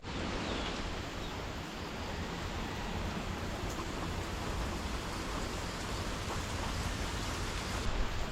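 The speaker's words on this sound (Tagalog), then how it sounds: "Yan pong ulan. Talagang hindi na po kami tinantanan." Heavy rain pounding down outside a hut during stormy weather, a dense, even roar of hiss that holds steady throughout with no voices.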